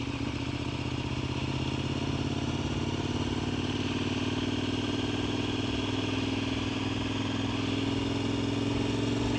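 A KTM 1290 Super Adventure motorcycle rolls along at about 30 mph on a South Hawai'i road, its engine holding a steady, loud, continuous drone with no talking.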